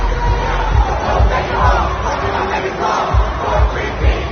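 A packed crowd in Houston roars and shouts in a dense, continuous wall of noise, with rhythmic swells of chanting that pulse through the clip, loud and close.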